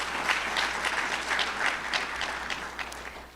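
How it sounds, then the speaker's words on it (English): Audience at the 2021 Prince George's County State of the County address applauding steadily for Dr. George Askew, a dense, even round of clapping heard at moderate distance. "Yes, please give him a round of applause"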